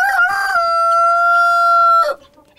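A domestic rooster crows once, loud and close, one long drawn-out call that breaks off sharply, leaving faint farmyard noise behind.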